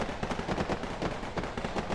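Fireworks bursting in a 3D fireworks simulator video game, a rapid crackling series of sharp pops and bangs packed closely together, loud and continuous.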